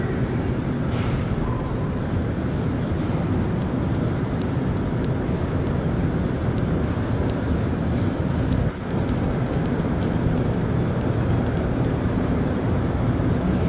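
Montreal Metro MR-73 train rumbles steadily in a station, a broad, even low roar holding for several seconds with a brief dip midway and no voices.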